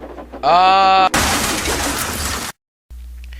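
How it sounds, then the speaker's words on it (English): A sharp whistle-like toot, then a loud clattering crash as a toy train smashes into the back of another train, rattling on for over a second before cutting to silence. "James had smashed into the back of Henry's train."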